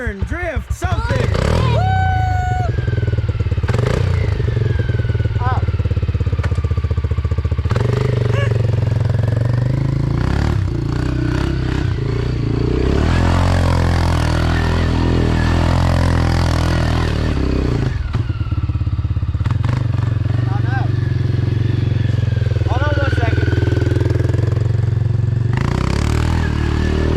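Honda TRX250X and Can-Am DS 250 quad engines drone loudly and steadily nearby, rising and falling as the ATVs ride and turn, with people talking over them.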